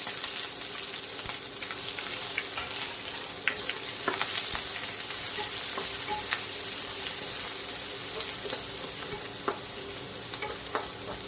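Chopped onion, curry leaves and panch phoron fry in hot oil, giving a continuous close sizzle with occasional stirring scrapes and pops throughout, and no talking.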